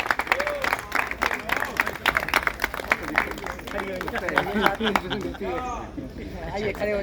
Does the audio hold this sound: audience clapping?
yes